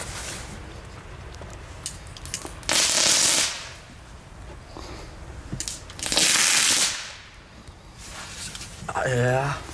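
Bursts of crackling, sizzling fireworks set off in the snow flare up several times over steady outdoor noise, with a whistling rocket rising near the end.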